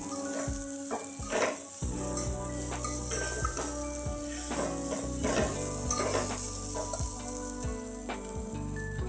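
Pigeon pea seeds tossed into a pan with roasted chutney sizzle loudly up close while a spoon stirs and scrapes against the metal in repeated strokes, with no talk.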